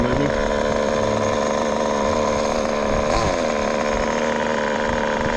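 A nitro RC car with an OS 15RX engine runs loud and steady, a dense buzzing drone that holds throughout with a slight rev swell near the middle.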